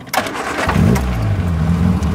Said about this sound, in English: Now we begin starting this vehicle.